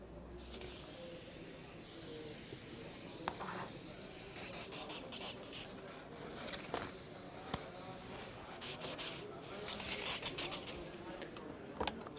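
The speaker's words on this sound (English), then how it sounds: "So we'll put in a blast of matte varnish." Aerosol can of matte varnish sprayed over a miniature model, a continuous hissing blast, close and steady for several seconds, with some rubbing and faint handling noises and a short louder spray burst near the end.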